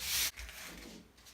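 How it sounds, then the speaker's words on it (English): Sanding a reclaimed wood pumpkin with 120 grit sandpaper: a loud, close rasping stroke, then a sudden break and softer, continuing rubbing of paper against wood. "I'm gonna take some 120 sandpaper."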